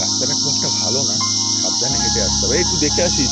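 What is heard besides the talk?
crickets chirping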